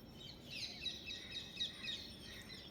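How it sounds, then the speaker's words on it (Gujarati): Faint, high chirps from several birds in the distance on a cold winter day, over a soft outdoor hiss. "પક્ષીઓ આવીને બેઠા."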